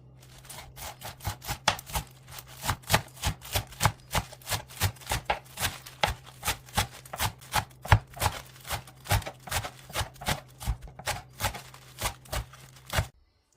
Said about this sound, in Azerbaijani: Orta böyüklükdə göyərtləri doğrayırıq.